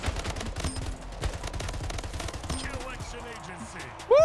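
A battle rifle fires in the video game Splitgate, with rapid, close bursts of gunfire in quick succession that thin out into scattered shots and game effects toward the end.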